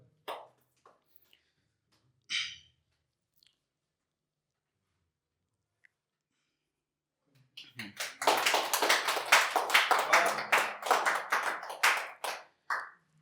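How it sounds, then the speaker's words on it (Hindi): An audience at a live song performance breaks into applause after a quiet stretch with a few isolated taps, dense clapping swelling loudly for several seconds and then tapering into separate claps. "अगर आपको पता चले तो ताली बजा के स्वागत करना"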